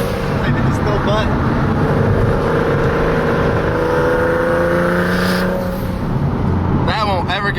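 Single-turbo Nissan 370Z pulling hard from inside the cabin, a loud sustained engine roar rising in pitch through the gears with turbo whoosh, and people talking over it.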